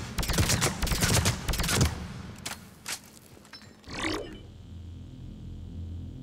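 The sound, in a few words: Indra rifle firing in bursts, Mass Effect 3 video game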